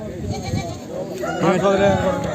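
Goats bleat amid the noisy crowd of a livestock market at Bargari, Punjab, a couple of wavering calls rising over people talking nearby.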